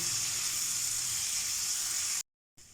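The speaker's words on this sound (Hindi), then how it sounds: "इसकी तब तक भुनाई करेंगे जब तक टमाटर जो हैं वो थोड़े बहुत गल जाएं।" Tomatoes and chicken roast on a tawa with a steady, loud, close sizzle and hiss that continues evenly before cutting out briefly.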